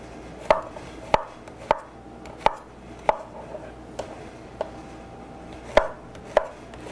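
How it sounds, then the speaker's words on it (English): A knife chops through squash and zucchini on a cutting board in a kitchen, about a dozen crisp, evenly spaced thuds close up, with no voices. "let's get these squash all cut up"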